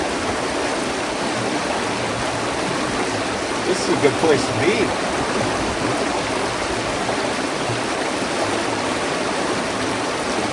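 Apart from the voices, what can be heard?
running water of a stream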